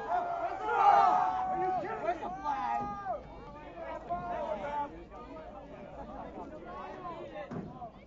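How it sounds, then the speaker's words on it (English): Crowd noise at a girls' high school lacrosse game rises in a loud burst of mixed voices and groans reacting to a call, then settles into an ongoing murmur of spectator chatter. "the crowd not liking the call for sure"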